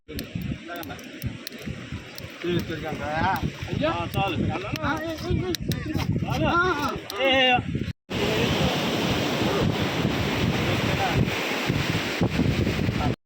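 Sea waves and wind roar at the shore where the Godavari river meets the sea at Odalarevu, a broad steady wash that fills the second half, while people talk and children's voices sound over the surf earlier.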